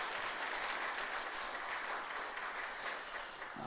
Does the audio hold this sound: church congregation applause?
yes